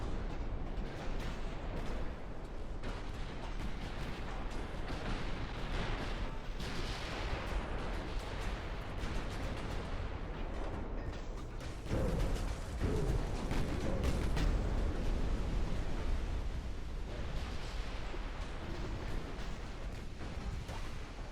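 Heavy booming salvos in the WWII-era naval battle game Ultimate Admiral, 1940 battleships firing amid a dense continuous rumble of distant cannon fire and explosions, with a louder burst near the middle.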